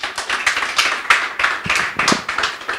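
A debate audience claps after a speech on godfatherism and democracy, a close, lively patter of hands in uneven bursts, loud and dry, with no voices heard.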